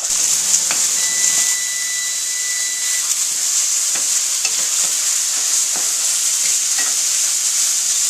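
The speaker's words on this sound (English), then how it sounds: "we're going to let these saute a bit" Mushrooms sauté in a pan, a steady bright hiss of frying moisture with a few soft stirring knocks and scrapes, close and continuous, no talking.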